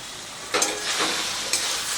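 Fried broccoli and potato stir-fried with spices in oil for a Bengali curry, a bright steady sizzle with two sharp spatula scrapes about a second apart, close and crisp, with no speech.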